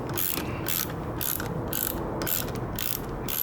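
A torque wrench ratchets rapidly as it tightens brake caliper bolts on a 2008 Yamaha FZ6 motorcycle, giving close, loud bursts of clicking in a regular rhythm.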